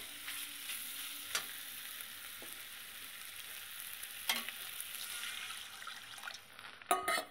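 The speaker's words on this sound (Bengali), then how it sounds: "এবার পুরোপুরি মশলাটা ভালো করে একসঙ্গে কষিয়ে নেব" Spice paste frying in a pan, a steady close sizzle with occasional sharp spoon scrapes and a couple of louder clanks toward the end.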